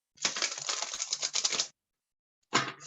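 Tarot cards are shuffled by hand: one dense, papery riffling burst lasting about a second and a half, a short pause, then the start of a second riffle, close and fairly quiet.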